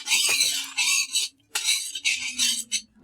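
Sesame seeds roasting in a pan on a stove while being stirred, with a repeated scraping and rattling of the spoon against the pan in bursts separated by short pauses, sounding close and clear.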